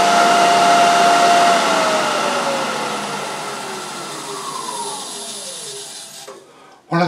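An Axminster AT508WL wood lathe at full speed on the middle belt, a loud steady whine and whirr that slowly drops in pitch and then cuts off with a thump near the end.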